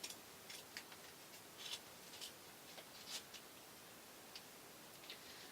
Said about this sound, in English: of closing these with some sharp craft scissors. I'm just going to literally trim there.